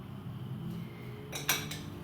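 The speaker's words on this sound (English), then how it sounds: "Okay, so now I'm going to stir it." A vegetable salad being stirred in a bowl gives soft, quiet scraping and a couple of light clinks of a utensil against the bowl.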